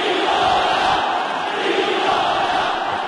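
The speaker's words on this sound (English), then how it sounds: "And here they go with the chants." A boxing arena crowd at a professional fight chants a fighter's name, a dense, loud roar of many voices sustained evenly for a few seconds.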